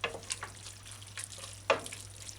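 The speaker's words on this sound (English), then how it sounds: "just use the wooden spoon and just stir the cheese" A wooden spoon stirs cheese into ham fettuccine Alfredo in a pan on a switched-off stove, with soft scattered scrapes, light clicks and faint wet sizzling, quiet and close.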